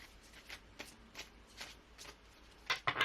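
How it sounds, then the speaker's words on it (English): Sticky tarot cards are shuffled by hand at close range in a series of soft, quick riffling bursts, spaced irregularly and ending in two louder, sharper shuffles. "These cards stick together, so I have to shuffle them very specifically."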